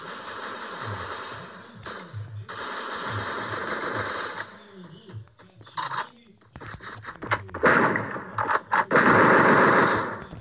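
Gunfire in the Free Fire mobile battle game, rapid automatic bursts in several stretches mixed with game effects, with people talking over and between the shots.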